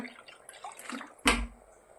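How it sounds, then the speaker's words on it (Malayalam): Water is poured into a cooking pot of millet kichdi with moringa leaves, a short burst of splashing and gurgling after a few faint clinks, close and brief. "അല്പം വെള്ളം കൂടെ ചേർക്കുകയാണ്."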